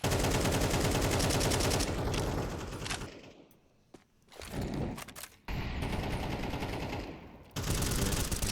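Rapid automatic gunfire sprays in the video game Counter-Strike during an ESL Challenger match, loud sustained bursts broken by a brief lull and scattered shots before firing resumes.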